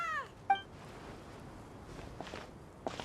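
A cat in Genshin Impact gives two short meows in quick succession at the start. Soft footsteps and quiet game ambience follow.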